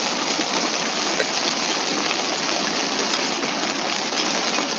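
Heavy rain pours down in a dense, continuous hiss at steady loud volume with no breaks, and no voices are heard over it.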